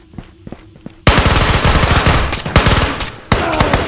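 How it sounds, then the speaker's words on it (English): Rapid automatic gunfire in the VR shooter Ghosts of Tabor erupts loud and close after a second of quieter footsteps and movement, continuing in dense bursts with brief pauses to the end. "I shoot you."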